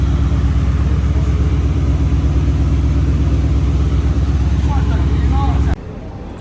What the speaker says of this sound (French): Là on voit juste le camion de Ferrari qui est en train de bouger.